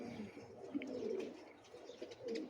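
A golden pigeon coos in low, soft, rolling murmurs, close by, with a few faint higher chirps from other birds behind it.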